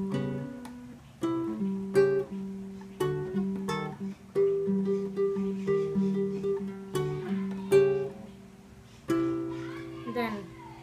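An acoustic guitar plays a song intro, plucked notes in a steady rhythmic pattern with clear attacks and short ringing decays, close and alone, ending on a strummed chord.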